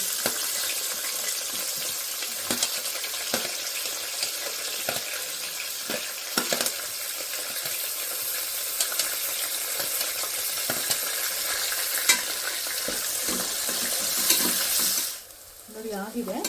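Onions fry and get stirred in a pan for mushroom biryani, a steady moderate sizzle with intermittent spoon scrapes and clicks against the pan, the hiss cutting off abruptly near the end.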